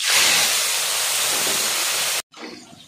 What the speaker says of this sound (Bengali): গরম মশলা হয়ে গেছে ভাজা, এবার মাংস দিয়ে দেবো।